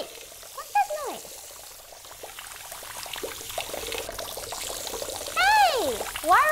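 Water runs steadily from several sink taps in a continuous wash, with voices rising over it in short bursts.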